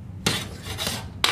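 Three sharp taps on a cup used for holding espresso beans, quick clinking knocks spaced about half a second apart, close and fairly quiet.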